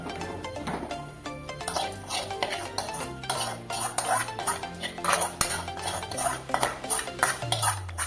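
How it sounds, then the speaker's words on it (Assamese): A spoon stirs vegetables and pasta into a white sauce in a pan, making rhythmic metallic scrapes and clinks against the pan, fairly close and busy throughout with no talking. "এতিয়া ইয়াতে মিক্স কৰা যাব হোৱাইট চচখিনি, ইয়াতে দিয়া যাব, তাৰপিছত দিয়া যাব পাস্তাখিনি"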